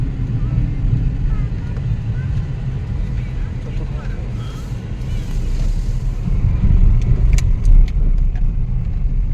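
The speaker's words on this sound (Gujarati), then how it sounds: "જો મિલિટરી વાળાની ગાડી જાય છે જામનગર" A military vehicle on the road near Jamnagar makes a heavy rumble that swells as it goes by, amid continuous road and wind noise.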